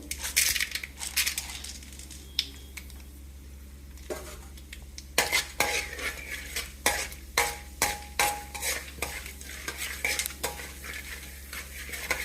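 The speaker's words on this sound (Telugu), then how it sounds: "ఫస్ట్ ఆవాలు వేసుకుంటాం కొంచెం బాగా ఆడిన తర్వాత శనగపప్పు" Mustard seeds and chana dal fry in hot oil for a tomato curry, with clinks and scrapes from a spoon against the pan recurring in an uneven rhythm. The sounds are close and carry no speech.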